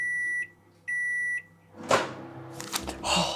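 Two sustained electronic beeps from a microwave after heating a cookie for 60 seconds, then clattering and rustling as the door opens and something is handled.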